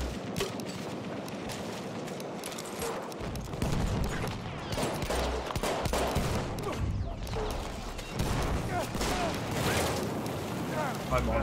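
Battlefield 1 combat rages with repeated heavy booms and bursts of gunfire, the explosions coming in waves throughout while a voice talks over the din.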